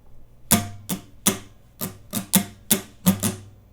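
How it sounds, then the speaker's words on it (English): Acoustic guitar strummed in a down-down-down-up pattern, eight to nine crisp percussive strokes in an uneven rhythm, close and fairly loud with nothing else heard. "down, down, down, up, and the whole thing's gonna sound like this."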